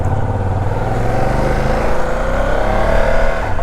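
Ducati Desert X motorcycle pulling away in sport mode, its engine revving loud and close as it accelerates continuously, with no talk.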